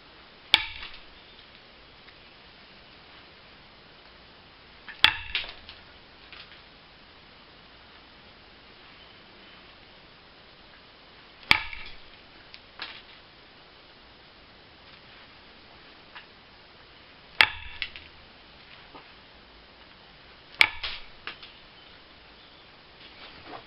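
Stone being knapped while both faces of a blade are flattened: sharp, isolated clicks and cracks arrive in small clusters about every five seconds against a quiet background, with no talk.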